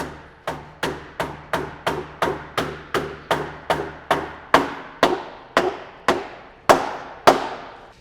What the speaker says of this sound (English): It is critical you have a mallet here. It is a tight fit